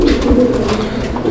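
Fancy show pigeons such as Archangel, Pouter or Show-king coo in a steady, fairly loud murmur with low throaty pulses, close by and with no talk over it.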